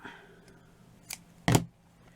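Scissors snip thread while a fabric flower is sewn, giving two brief crisp cuts, a light one followed by a louder, sharper one, close by in a quiet room.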